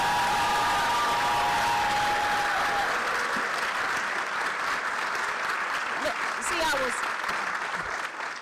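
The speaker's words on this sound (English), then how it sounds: "Let's give them a round of applause" Audience applause fills a university Charter Day celebration, a dense steady clapping that carries on for several seconds, with a few voices and whistles rising through it.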